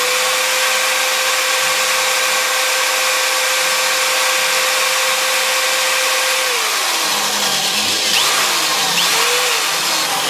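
Steady electric single-speed power drill whirring near and loud as it bores into a pine cone, with a constant motor tone that drops in pitch near the end as it bogs down under load.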